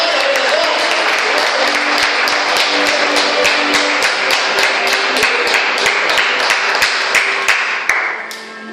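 A church congregation at an evening worship service applauds in praise of Jesus: dense, sustained clapping carries steadily for several seconds, with crisp individual claps standing out, before tapering off at the very end.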